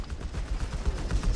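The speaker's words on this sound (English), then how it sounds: "And we got here the creeping barrage." Creeping artillery barrage in the strategy game Company of Heroes 3, a rapid run of muffled, rumbling blasts and pops rolling on without pause, moderately loud with no voices over it.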